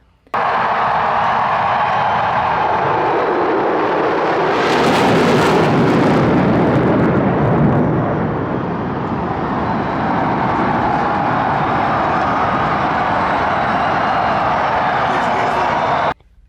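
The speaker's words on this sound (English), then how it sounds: "And so I didn't know the planes were coming." Military jets roar low overhead during a Stanley Cup victory celebration for the Washington Capitals, a loud, sustained rushing thunder that swells and fades over a noisy crowd, with people talking and cheering throughout.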